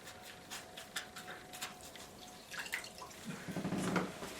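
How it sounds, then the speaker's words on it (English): A paint sponge rinsed in a big pot of water, quiet dripping and small splashes at first, then a brief burst of sloshing swishes near the end, soft and close with no voices. "Clean the sponge. You need a big pot of water to do this."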